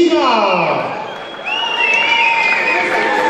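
Crowd applause and cheering at a youth kickboxing championship fight, a steady wash of clapping with shrill whoops and whistles rising after a brief dip, sustained for several seconds.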